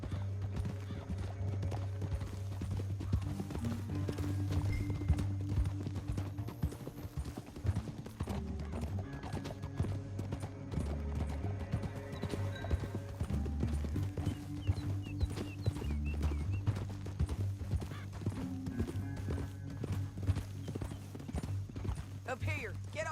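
Horses' hooves clip-clop steadily throughout in the Red Dead Redemption 2 video game, with occasional whinnies and voices talking over the riding.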